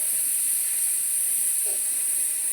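A pressure cooker vents steam in a steady, sharp hiss that stays loud and unbroken throughout, with no talking.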